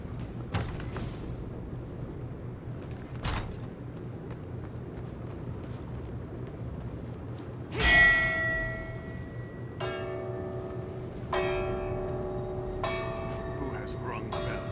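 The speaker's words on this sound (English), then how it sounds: "Who has rung the bell and woken Sadir?" Bells ring out inside the Elder Scrolls Online game, loud resonant strikes with long sustained tones over a steady low ambient bed.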